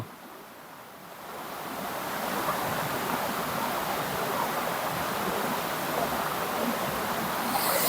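Steady, dense rush of Meenmutty waterfall in Wayanad, a continuous broadband roar that swells slightly after the first second and holds loud throughout, with no voices.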